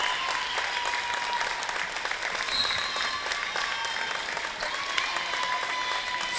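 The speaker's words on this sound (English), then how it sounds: "And a nice round of applause for Megan Ney, headed to the bench with 37 5/10." A crowd at a women's college basketball game between Elmhurst and Carthage gives sustained, even applause that fills the gym from start to finish, with no break.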